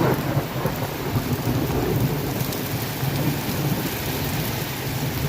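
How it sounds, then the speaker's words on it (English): Heavy rain pours steadily outdoors while deep thunder rumbles loudly and continuously across the whole stretch, with no voices. "Crazy rain, crazy thunder."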